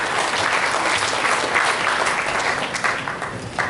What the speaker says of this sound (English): Today, both sides will clap.